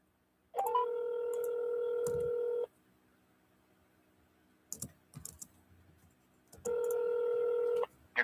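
A phone call being dialed: two long steady electronic tones, likely ringback, sound loud and close, separated by a few faint clicks and brief noises, with no one talking.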